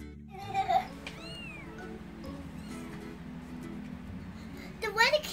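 Kittens meow in a short run of high, rising cries near the start and again at the end, over a steady low household hum with faint voices in the background.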